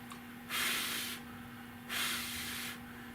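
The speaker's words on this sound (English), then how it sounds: "I want to wet sand this thing out and buff it" Wet sanding a car dash panel produces two soft, rasping strokes, each lasting under a second, over a quiet, steady electrical hum.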